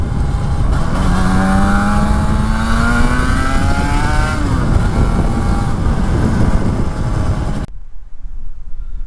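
A 1980-1982 Yamaha RD350LC two-stroke motorcycle fitted with Swarbrick exhausts, ridden on the road, engine note rising through the revs over loud wind rush before cutting out abruptly near the end.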